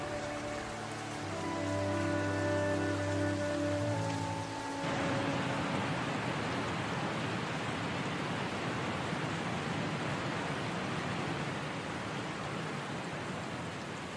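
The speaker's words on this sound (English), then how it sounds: "The river surges with the new snow melt." A river swollen with snow melt after warm rain surges past as a broad, steady roar that rises once a few seconds of soft musical tones fade out, then holds continuous to the end.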